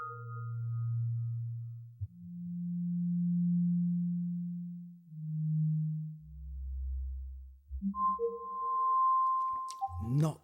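Sonic Pi synth plays a minor pentatonic scale with notes scattered randomly across five octaves: pure sine-like tones, first a few long sustained notes at shifting pitches, then a quick burst of short high chirping notes. No voices.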